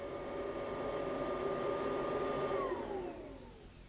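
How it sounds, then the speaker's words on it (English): A vacuum cleaner runs on household carpet with a steady whining drone and a tonal hum. The pitch drops near the end as the motor winds down. It is faint and sounds alone. "a scientist might use a special vacuum cleaner that collects all the dirt in a box"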